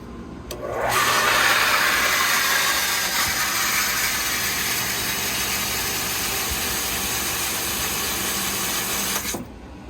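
A vehicle engine turns over after water pump work and settles into a steady, close idle that runs for about eight seconds before cutting off abruptly.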